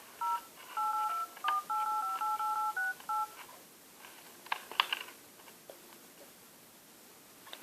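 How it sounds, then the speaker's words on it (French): Dual-tone keypad beeps from a Samsung Galaxy S3 numeric keypad dial in a fast run of about a dozen presses, crisp and close, followed by quiet handling taps and clicks. "on est à peu près au pavé numérique du Galaxy S3"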